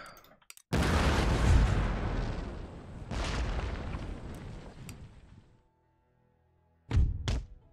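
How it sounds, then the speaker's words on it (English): Artillery batteries firing in Empire: Total War, heavy booming volleys that roll on for several seconds, a pause, then a brief pair of sharp bursts at the end. "Unlimber the artillery."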